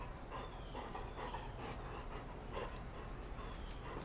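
A dog panting and whimpering nearby, soft rapid breaths with a few faint whines over a quiet room hum.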